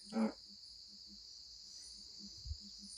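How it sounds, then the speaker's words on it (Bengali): Crickets chirp on a still, heavily foggy night near Jaldapara, a faint, steady high trill with soft repeated pulses beneath, briefly interrupted by a short close knock at the start. "চারিদিকে পুরো নিস্তব্ধ ঝিঝি পোকা ডাক আসছে"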